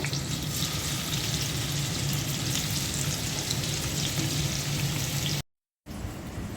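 Tilapia fish frying in hot oil, a loud, dense, continuous sizzle like heavy rain that cuts out briefly near the end, then resumes.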